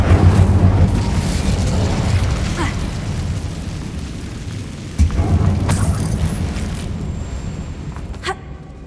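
An Incendio fire spell is cast in Hogwarts Legacy inside a closed tomb, a loud burst and roaring whoosh with low booms and a second sharp blast midway, under gameplay sound.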